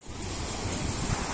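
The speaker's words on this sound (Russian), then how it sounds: "Сегодня на море волны." Black Sea waves surge and wash steadily in a short burst at Sochi, with wind rushing over the microphone.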